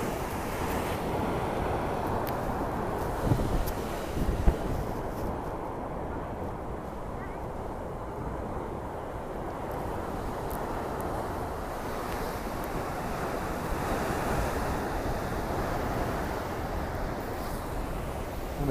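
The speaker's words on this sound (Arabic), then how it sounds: "صوت الأمواج" Ocean surf and strong wind on Rabat beach in Morocco, a steady broadband roar with continuous wind buffeting on the microphone and a few brief louder thumps, no clear talk.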